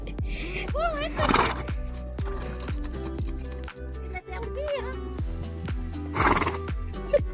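A horse in a jumping yard whinnies repeatedly after rolling in the sand, loud and close, with hoof clip-clops and a rhythmic clatter running underneath.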